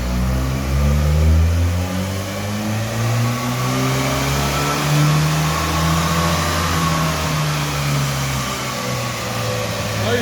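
A turbocharged Honda-powered go-kart engine revs hard on a dyno, loud and close, its pitch climbing and sagging in long sweeps under a steady mechanical rasp.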